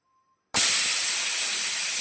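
A pressure cooker with peas and salt for ghugni suddenly lets out a loud, sustained hissing steam whistle after a short silence, and it continues strongly to the end.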